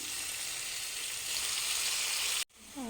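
Tomatoes fry in hot oil for palak dal, a loud, dense, continuous sizzle close by that cuts out abruptly near the end, followed by a brief rising tonal squeal.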